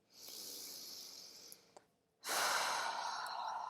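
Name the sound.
deep breath in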